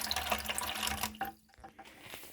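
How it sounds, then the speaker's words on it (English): Water runs from a newly fitted toilet supply line during a leak test at a home toilet replacement, a steady rushing stream that stops partway, followed by a few faint drips and clicks. "the water is in fact coming out of there"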